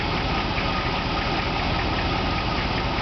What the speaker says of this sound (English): 5 litres engine idling in park